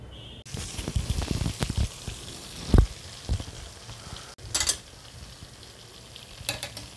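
Fish fingers dropped one by one into hot oil, bursts of bubbling sizzle with stirring scrapes and a sharp clack, close and moderately loud, tapering to a lighter crackle, no one speaking.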